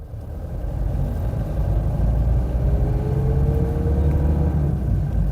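A car with a malfunctioning semi-automatic gearbox moves in first gear, giving a steady low engine rumble with a faint rising whine, heard close and continuous with no talk.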